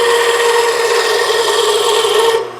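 Steady, loud, close abrasive rasping as the carbon tip of a call striker is sanded down. The scraping runs continuously for over two seconds, then cuts off abruptly.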